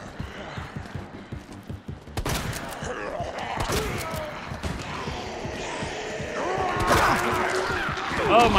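A shotgun fires in Resident Evil 2 Remake, heavy booming blasts and impacts mixed with game creature noises and clatter, growing busier and louder through the clip.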